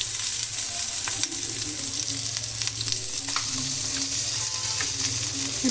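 Chopped onions and cumin seeds frying in hot oil, a steady close sizzle with faint stirring scrapes throughout.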